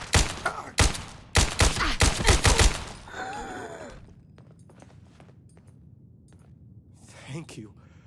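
A rapid burst of loud gunfire in several volleys in a video game at Fort Hagen, followed by quieter shuffling and a faint voice near the end.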